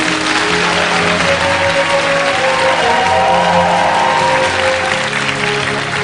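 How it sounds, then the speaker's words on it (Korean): Big lecture-hall audience applauding after a talk, dense sustained clapping throughout, loud and close, with no voices over it. "박수 한번"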